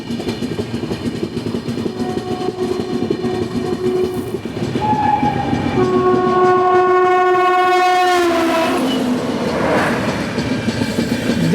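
The Dehradun Amritsar Express rolls past close by with a loud, continuous rumble and wheel clatter, while a sustained, sharply tonal horn sounds over the train noise.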